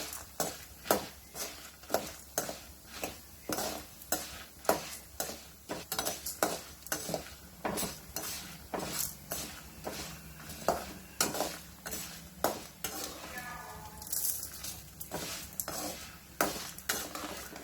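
Urad dal frying in a pan for chutney, with tamarind added, crackles under fast, repeated stirring strokes that scrape and tap against the pan, loud and rhythmic throughout.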